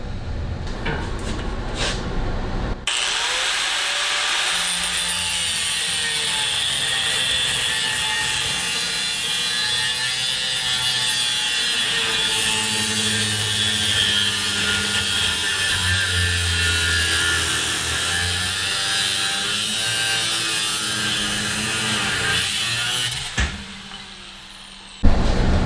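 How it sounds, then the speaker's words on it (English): A power saw cuts off a hunting stick at a marked line, whining loud and continuous for about twenty seconds with a slowly shifting pitch, preceded and followed by brief handling noises. "So our next step is going to be to cut off right at that line."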